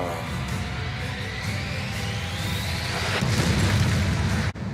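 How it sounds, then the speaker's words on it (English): A naval shell explodes aboard a warship, a broad rumbling boom that swells and roars for several seconds before cutting off abruptly. "A shell hits just behind the bridge. The explosion tearing through the wall and taking out multiple sailors and officers."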